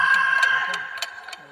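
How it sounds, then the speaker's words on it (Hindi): A clock ticks fast for a spooky scene where the hands spin on their own: crisp, evenly spaced ticks, about three per second, near and clear over a faint low background. "घड़ी के कांटे अपने आप तेजी से घूमने लगे।"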